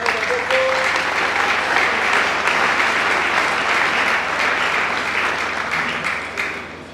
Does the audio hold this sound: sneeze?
no